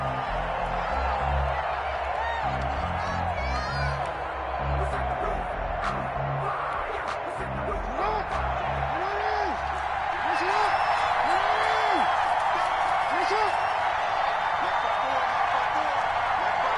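Stadium crowd noise rises and swells with cheers in an NFL video game matchup of the Baltimore Ravens and Arizona Cardinals, a loud continuous roar under a commentator's voice.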